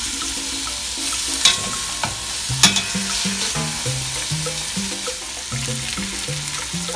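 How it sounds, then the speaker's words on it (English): Chicken pieces browning in a frying pan for Cuban arroz con pollo, a continuous close sizzle with a couple of sharp utensil clacks, alongside a wavering tonal hum, no talking. "Now I'm going to flip it over and let them brown for an additional 5 minutes on the other"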